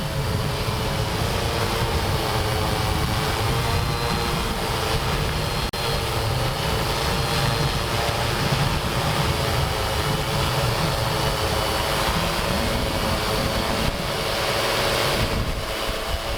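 A Tarot X6 960 hexacopter drone runs steadily while its retracts are tested, giving a loud, continuous whirring rotor drone with rough wind buffeting and no talk.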